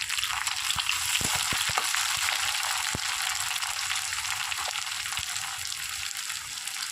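Chopped onion and tomato fry in a pan with a steady broadband sizzle and a few sharp crackles and pops, close and fairly loud throughout, no voices.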